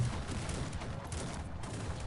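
Rolling volleys of musket fire in the strategy game Cossacks 3, a dense, continuous crackle of overlapping shots with no clear gaps.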